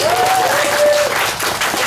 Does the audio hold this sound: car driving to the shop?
no